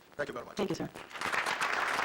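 An audience applauds, the clapping building and holding steady over a short stretch while someone speaks briefly over it at the start.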